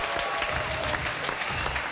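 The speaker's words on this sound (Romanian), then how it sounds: "Aplauze pentru Chiorete Ilarie!" Dense audience applause at a staged comedy show, greeting the next artistic act; steady, loud and continuous throughout, with no voices over it.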